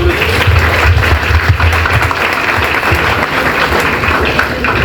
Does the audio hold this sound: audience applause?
yes